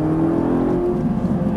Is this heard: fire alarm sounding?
no